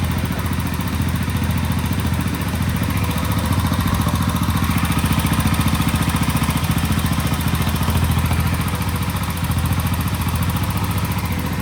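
A 1967 Sears Super 12 garden tractor engine runs steadily with a fresh muffler fitted, a loud, close, continuous mechanical drone with even clatter that never lets up.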